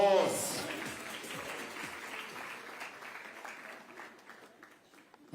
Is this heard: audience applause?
yes